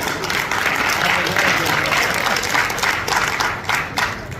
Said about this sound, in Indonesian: Beri tepuk tangan, tepuk tangan.